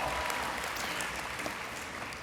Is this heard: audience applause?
yes